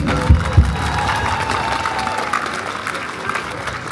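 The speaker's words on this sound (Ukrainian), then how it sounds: "балетмейстер Ігор Фода, хоч оплески!" Concert audience applauding a city orchestra ballet troupe at an Independence Day celebration in Lviv, a dense, steady wash of outdoor clapping with a couple of low thumps near the start and faint voices underneath.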